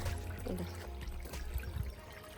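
A small stream of water pours down from above and trickles steadily nearby, a soft continuous splashing and dribbling with no talk.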